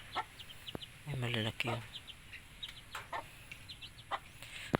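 Young chicks peeping close by, with high, rapid chirps scattered throughout and a brief hen-like cluck, while a person speaks briefly over them.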